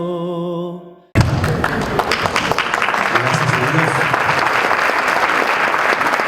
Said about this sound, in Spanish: Un aplauso bien fuerte para nuestro Rey,